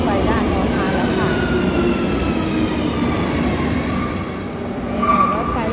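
A Madrid metro train pulls in with a sustained rumble and rising metallic whines, braking squeals near the end over a busy station hum.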